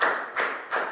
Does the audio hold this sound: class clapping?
yes